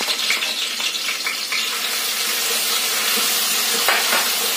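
Ginger and green chili paste fries in a pan for a Marathi radish thecha, giving a steady, bright sizzle and hiss throughout with faint stirring scrapes.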